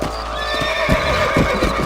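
Horse in the Western open-world game Red Dead Redemption neighing over a steady clatter of hooves, with rhythmic clip-clop pulses and a close, loud whinny sustained across the short stretch, no talking.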